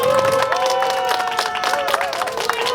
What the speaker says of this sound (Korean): 여러분 이분들에게 먼저 박수를 한번 보내주시기 바랍니다